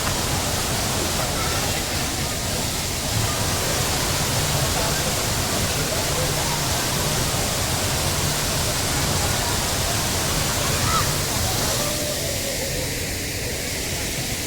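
Taytay Falls rushing with heavy water, a loud, dense, unbroken roar of falling water close by, steady throughout, with faint voices now and then beneath it.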